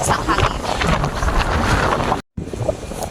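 Strong wind buffets the microphone in snowy Canadian weather, a loud, steady roar that cuts out for a moment before continuing.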